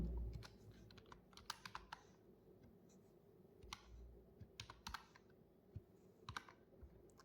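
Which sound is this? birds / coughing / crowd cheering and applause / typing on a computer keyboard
typing on a computer keyboard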